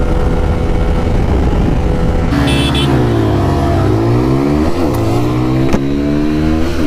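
Bajaj Pulsar N160 and TVS Apache RTR 160 motorcycles launching in a drag race, engines revving up and pulling away through rising gear sweeps, loud and continuous over outdoor noise.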